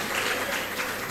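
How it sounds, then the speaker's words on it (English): A brief, dense burst of applause fills a chamber during a South African mid-term budget statement, many hands clapping close together as a steady wash of sound. "Minister Patel is supposed to clap a bit harder."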